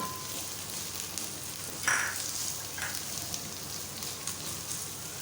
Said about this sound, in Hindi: लहसुन अदरक प्याज और हरी मिर्चें सौते हो जाएं